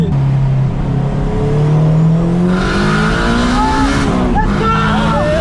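Cars racing side by side, a cheap old Honda Civic against a £60,000 supercar, engines droning loud and steady with rising pitch as they accelerate, a voice talking over the noise.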